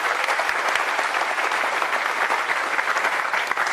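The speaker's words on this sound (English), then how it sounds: "I hope you're all applauding at the end of the talk as well" Sustained applause from a conference audience at a FOSDEM software talk, a dense even wash of many hands clapping that holds steady and fairly loud throughout.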